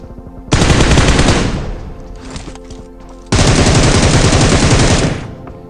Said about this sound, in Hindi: मैं एक फायर देता हूँ फिर देखो क्या होता है